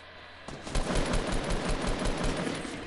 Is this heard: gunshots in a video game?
yes